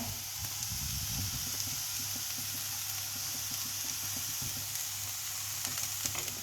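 Onion sautéing lightly in a pan, a steady close crackling sizzle of frying that runs throughout, with occasional soft stirring scrapes.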